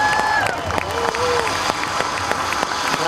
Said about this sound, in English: Won't you give yourselves a round of applause?